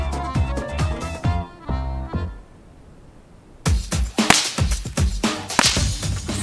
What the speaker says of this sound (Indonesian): Suara yang dihasilkan dari pecut cukup keras